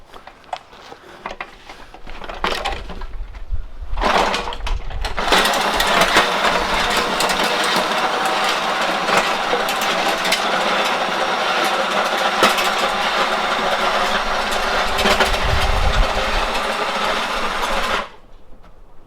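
A Paperpot Ellia 3000 tilther tilling a garden bed starts with short bursts, then settles into a loud, steady motor whir with a rattling edge for about twelve seconds before cutting off abruptly.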